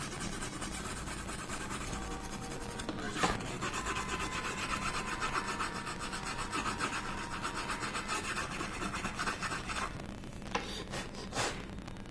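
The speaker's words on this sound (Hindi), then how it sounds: "सर इसको रबड़ से साफ करते हैं" Steady scratchy rubbing of a rubber eraser scrubbing something clean, continuous back-and-forth rasping with a couple of sharper knocks, close up and unaccompanied by speech.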